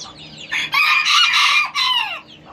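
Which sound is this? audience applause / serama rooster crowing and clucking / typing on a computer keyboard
serama rooster crowing and clucking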